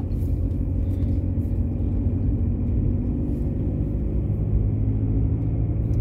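A 2007 Audi A6 C6 sedan rolls over a potholed, unlit road, giving a continuous heavy low rumble of tyres and suspension with a steady engine drone, close and without talk.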